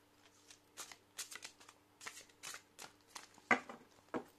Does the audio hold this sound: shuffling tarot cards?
yes